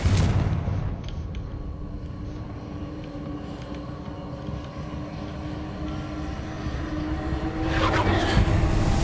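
Incendio and Confringo fire spells cast in the video game Hogwarts Legacy sound as dense, rumbling blasts under a roaring, crackling layer, with a sharper burst near the end.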